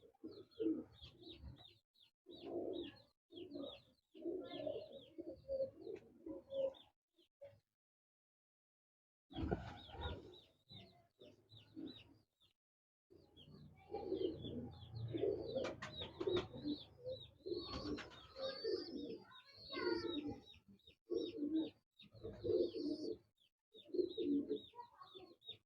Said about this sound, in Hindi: ये मेरे कमकर कबूतर हैं जी